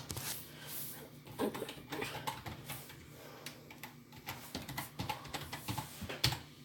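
Steady clatter of computer keyboard typing, close by, with irregular bursts of keystrokes and no talking.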